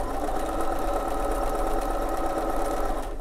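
A sewing machine runs a running stitch to attach binding onto toweling fabric, giving a continuous, close, rapid mechanical whir with no talking.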